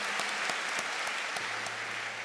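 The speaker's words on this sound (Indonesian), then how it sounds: "Tepuk tangan untuk Anda." An audience at a university gathering for new students in Indonesia claps in a sustained round of applause, steady and fairly faint, with a few sharper claps standing out.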